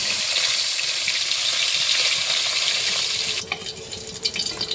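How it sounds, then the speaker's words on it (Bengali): Koi fish (climbing perch) fry in well-heated oil with a steady, loud hiss and crackle that runs unbroken, then turns more spattery and uneven near the end. "তেলটা আমি ভালো করে গরম করে নিয়েছি। এর মধ্যে আমি কই মাছগুলো সব দিয়ে দিচ্ছি।"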